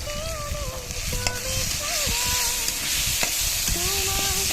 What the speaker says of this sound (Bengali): মশলাটাকে তেলে কষিয়ে নিচ্ছি।